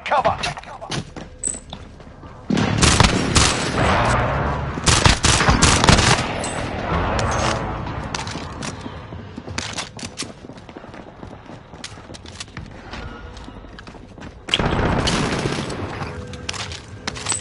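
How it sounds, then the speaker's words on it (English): Heavy gunfire and explosive impacts from an enemy precision airstrike in Call of Duty: Warzone, with loud bursts of shots and booming blasts coming in waves and then easing to quieter battle noise. "Enemy precision airstrike. Take cover."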